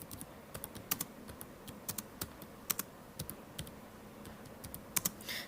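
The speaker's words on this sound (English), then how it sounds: "If you want to type something, even you can type also." Typing on a computer keyboard, a quiet run of close, crisp key clicks in uneven bursts with short pauses, alone against a faint background.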